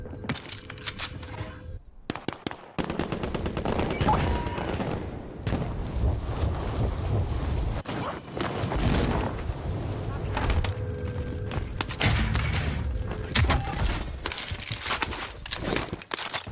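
Rapid gunfire from a Tech 9 pistol in a video game rattles in dense bursts with short gaps, loud and close, while players talk over it.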